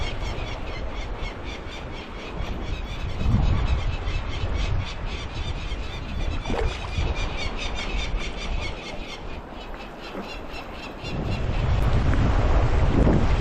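Arctic ocean waves rolling and breaking beneath gusty wind buffeting the microphone, a continuous broad roar that swells and fades, with no voices.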